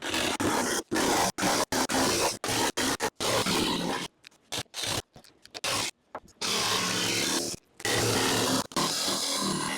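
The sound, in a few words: jigsaw plunge cutting wood panel for van partition wall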